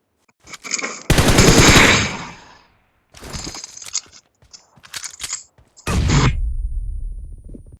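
Bursts of rapid automatic gunfire from a video game, loud and close, separated by short pauses and a few single shots.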